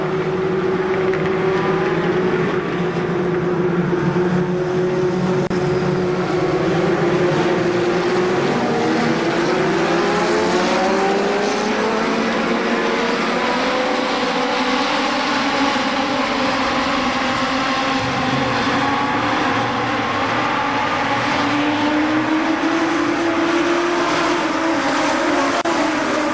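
Legends race cars roar around KilKare Speedway in a sustained, layered engine howl, pitches climbing and falling as the pack circulates, heard from a distance throughout without pause.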